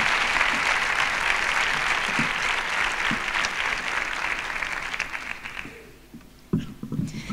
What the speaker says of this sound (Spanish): Fuerte aplauso para Itziar Baiza.